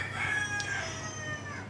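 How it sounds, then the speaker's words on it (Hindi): A rooster crows once, a drawn-out rising and falling call heard at moderate distance over faint background noise. "ये देखो वीडियो में आवाज़ हमारे मुर्गे की"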